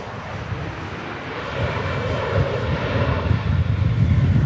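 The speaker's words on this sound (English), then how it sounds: "Bit of a floaty landing there for an EasyJet A320." An EasyJet Airbus A320 lands at Manchester Airport in stormy weather, its engine roar building steadily over gusting wind noise, with no voices.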